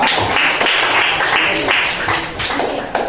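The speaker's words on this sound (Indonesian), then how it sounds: "Berikan tepuk tangan." A class of students applauding together in a classroom, a dense, steady burst of clapping that holds for about three seconds and fades slightly toward the end.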